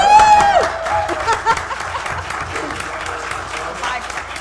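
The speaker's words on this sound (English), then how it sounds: "You can applaud. We could clap. Let's clap." A room of people at a township committee meeting claps steadily, rapid dense applause following a brief cheer or call at the start, with a few voices and chuckles mixed in.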